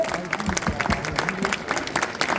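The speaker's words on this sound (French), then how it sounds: "tonnerre d'applaudissements pour nos invités, s'il vous plaît." A festival crowd applauds guests at an on-stage meeting, with continuous clapping mixed with crowd noise and voices.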